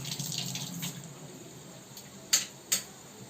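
Cut onion rings for chicken pakoda rinsed under running water, a soft steady stream with a couple of sharp splashes or clinks near the end.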